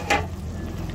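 Beaten egg frying in a pan gives a steady, soft sizzle with a slightly brighter spurt at the start, close and alone.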